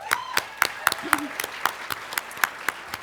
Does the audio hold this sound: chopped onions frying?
no